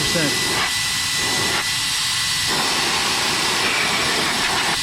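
Meco Eleverde battery-powered air duster blower running at full 100% power, a loud continuous close-up whoosh and hiss that holds steady throughout.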